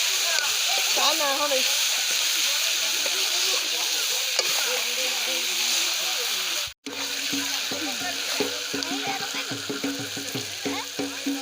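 Fish sizzles and spits steadily in hot oil in a pan during home cooking for a Bihu meal, the constant frying hiss continuing under people talking and briefly cutting out midway.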